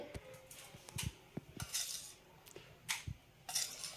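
Tomato added with a spoon into a pan, quiet metallic scrapes and light taps of the spoon against the pan, close and intermittent.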